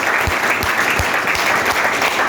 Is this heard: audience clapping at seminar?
yes